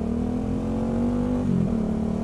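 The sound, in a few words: touring motorcycle, likely Kawasaki Versys, riding behind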